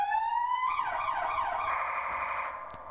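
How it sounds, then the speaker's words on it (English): Loud electronic fire truck siren from the video game EmergeNYC wails in rising and falling sweeps for about two and a half seconds, then cuts off abruptly. "Sirens, I hate in this truck. They are really loud."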